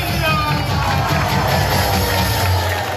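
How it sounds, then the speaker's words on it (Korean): Church congregation cheering as pastor Jeon Kwang-hoon appears, a dense, continuous wash of crowd voices and shouts filling a large hall at steady loudness. "잠시 후 교인들의 환호 속에"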